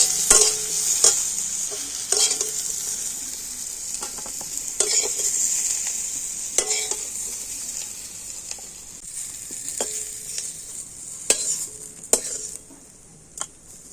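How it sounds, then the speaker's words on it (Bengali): Pointed gourd (kakrol) frying in a pan, a constant bright sizzle punctuated by periodic scraping stirs and clinks of a utensil against the metal, close and without talk. "কাঁকরোলগুলোকে একটু খুব সুন্দর করে আমি লালচে করে ভেজে নিয়েছি"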